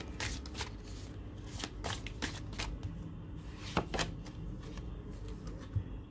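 Tarot cards being shuffled in a Hindi pick-a-card reading, a steady riffling flutter with sharper snaps and taps throughout, close and fairly quiet, with no talking.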